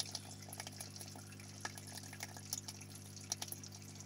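Aquarium pump discharging murky water from its outlet, a continuous low trickling and gurgling flow with small splashes and drips over a steady hum, faint and close.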